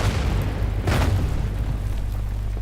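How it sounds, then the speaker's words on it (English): A heavy mortar bombardment in the WW2 strategy game Order of Battle: a loud booming blast near the middle, rumbling over a constant low battlefield drone before fading. "Start with some mortar bombardment there."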